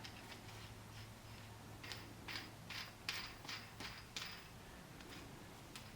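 A small-block Chevy 350 in a 1969 Camaro has a harmonic balancer installer tool nut threaded down by hand, giving quiet, irregular metallic ticks and creaks close by with no talking.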